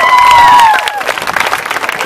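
A street-performance crowd at Southbank, Brisbane, claps and cheers in a brief, loud burst, following a short high, wavering vocal-like tone at the start.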